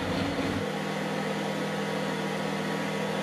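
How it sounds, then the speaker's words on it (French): An i-Cook'in kitchen robot kneading dough while its bowl moves, a steady mechanical whir and hum with a low motor drone, constant and close, no voices. "c'est juste le bol du robot qui bouge. Donc là on va le laisser pétrir pendant 2 minutes"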